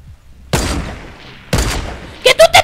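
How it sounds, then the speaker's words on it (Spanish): Two sharp, loud gunshot blasts about a second apart, then a quick burst of rapid pops, with the bright, punchy quality of Fortnite gunfire. "Por acá escucho tiros."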